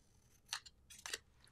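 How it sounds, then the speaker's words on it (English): Sharp scissors snipping while a shaker card is made: two quick close bursts of blade cuts, the second a longer double snip, heard alone in a quiet room. "these are really nice scissors"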